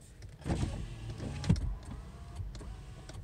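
Electric power windows in a parked car whirring closed, a motor hum rising near and close inside the cabin, with a louder thump midway, no talking.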